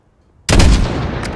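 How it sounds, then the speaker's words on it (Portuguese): A single sharp gunshot in Call of Duty: Modern Warfare's campaign cracks out after a moment of quiet, followed by a short rumbling echo. "Atira contra o vento. Pronto. Agora atira."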